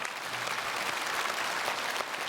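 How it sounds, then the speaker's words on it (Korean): Steady, dense applause from a large church congregation during a Christmas Eve worship service fills the space, continuous and even without pauses. "하나님께 영광의 박수 올려드립니다."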